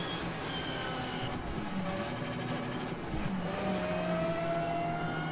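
A rally car engine in AC Rally drones and revs steadily with shifting pitch, rising toward the end, close and continuous with no voices.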